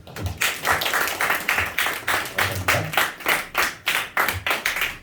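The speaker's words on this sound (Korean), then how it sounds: "박수 한번." Congregation at a middle-school church worship service claps together in a steady rhythmic beat, about two claps per second, loud and close, with a few scattered voices underneath.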